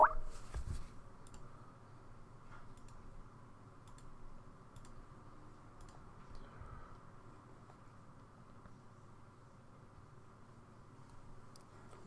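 Vigorous typing on a computer keyboard, a faint steady patter of small clicks and ticks against a quiet room hum, with no talk.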